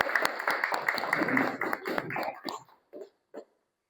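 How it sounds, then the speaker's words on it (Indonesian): Brief applause from an audience after a presentation, a short burst of clapping mixed with voices that fades out within a couple of seconds, followed by a few isolated words. "Ya, kita beri tepuk tangan."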